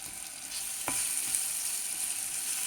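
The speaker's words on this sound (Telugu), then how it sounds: "ఇప్పుడు సేమియాలు వేసి వేయించండి" Vermicelli (semiya) frying in a pan, a steady bright sizzle with a single scrape of stirring partway through, no voices.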